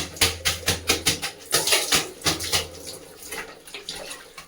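Clean water is poured and splashed while washing a hair patch, a run of rhythmic sloshing pours and drips, close and fairly loud, with no talking.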